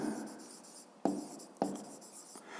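A pen scratches across paper in soft, continuous strokes, broken by two sharper taps as the tip lands, quiet and close in a still room.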